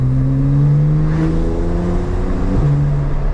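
Porsche 911 Turbo S engine in Sport Plus mode on fresh Pilot Sport Cup 2 tires, a steady loud droning rev heard from inside the cabin, with a brief shift-like dip near the end before the drone resumes.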